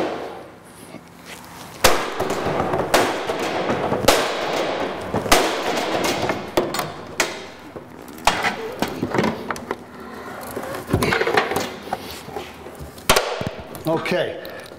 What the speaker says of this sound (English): I'll bang in here about 3 or 4 inches in. It'll open up that gap enough for me to get in there and start crushing.